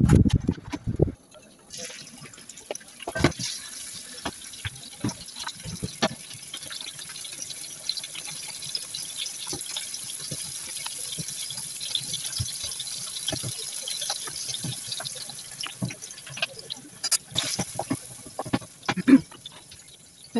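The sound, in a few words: gnocchi boiling in cooking water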